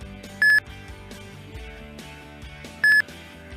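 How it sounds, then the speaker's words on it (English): An ultrasonic sensor on a white cane for the visually impaired gives two short, sharp electronic beeps about two and a half seconds apart over a soft musical background. "The ultrasonic sensor on the cane detects hanging objects and informs with a beep"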